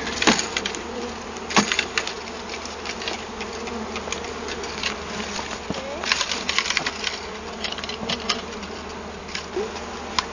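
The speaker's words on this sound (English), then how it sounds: "That's a good pile of bees." A dense swarm of honey bees buzzes steadily up close, a constant droning hum with scattered taps and crackles throughout.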